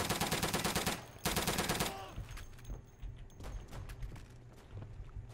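Bursts of rapid machine gun fire in the World War II shooter Day of Infamy, two dense volleys up front followed by scattered distant shots and clatter across the battlefield.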